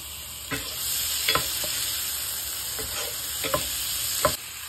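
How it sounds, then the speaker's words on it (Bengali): Chopped garlic and tomato frying in butter with a little oil, a continuous sizzle broken by several sharp utensil scrapes and clacks against the pan. "টমেটোটা আমি জাস্ট একটু ভেজে নেব"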